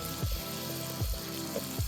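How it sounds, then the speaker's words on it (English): T-bone steaks, corn, mushrooms and onion sizzling on a gas grill, a steady faint hiss of frying with soft periodic low thumps. "We are cooking T-bone steaks, corn, mushrooms,"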